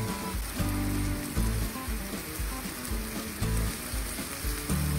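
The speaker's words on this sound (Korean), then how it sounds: "동봉되어 있던 하오하오 스프와 기름도 넣고 한 번 더 볶아주세요." HaoHao instant noodles are stir-fried with their soup base and oil in a hot pan, crackling and sizzling steadily, with rhythmic bursts as the noodles are tossed and stirred.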